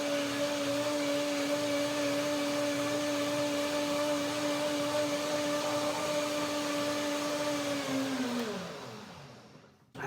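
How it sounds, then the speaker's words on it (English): A blender whirs steadily at full speed, blending a dressing of flax, chia and hemp seeds, loud and close with a stable hum for about eight seconds before it winds down and stops. "One more dance, blender."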